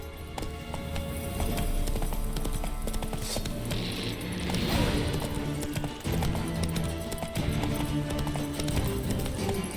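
A horse's hooves clip-clop at a steady rhythm in The Witcher 3 video game, loud and close, layered over game music and ambience for the whole stretch.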